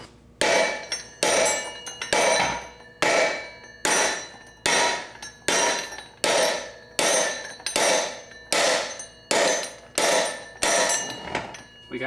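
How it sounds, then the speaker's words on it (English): About a dozen heavy hammer blows strike a stuck metal part on an abandoned go-kart, coming at a steady rhythm of roughly one per second, each a loud, ringing metallic clang that decays quickly. "and we're going to get a bigger hammer."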